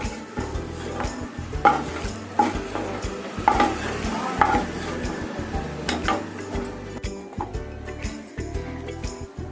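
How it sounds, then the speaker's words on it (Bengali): Egg toast frying in a pan for a Bengali street-food style dish, with a steady sizzle broken by repeated scraping and clinking of a utensil against the pan, close and alone without talk. "ডিমটা বেশি কড়া করে ভাজবো না"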